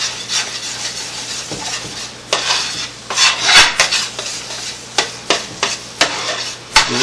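Flour is stirred into chicken gravy in a pan, a spoon scraping and clanking against the metal in repeated strokes over a low steady hum and faint sizzle, close and fairly loud.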